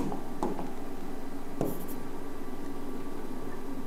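Handwriting of notes during a zoology lecture, soft scratchy pen strokes with a couple of brief louder scrapes over a steady background hum, no clear voices.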